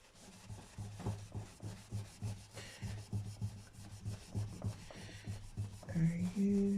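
Window cleaner is rubbed onto an acoustic Stagg guitar, making quiet, steady back-and-forth scrubbing strokes against the wood. A faint squeak comes near the end.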